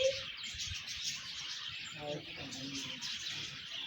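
Birds call and chirp steadily in a zoo aviary at Indroda Natural Park, a dense continuous chatter with a voice murmuring faintly underneath.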